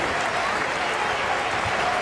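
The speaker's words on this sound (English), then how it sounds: "And Serbia applauding" Crowd applause fills the arena at a USA vs Serbia basketball World Cup game, a dense, loud, continuous clapping roar that holds steady throughout.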